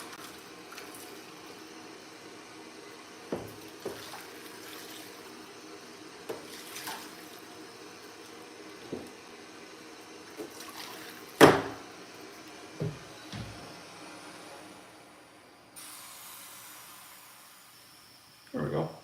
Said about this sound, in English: So we'll just give ourselves a little water rinse, and we'll just rinse them in this big dumb tray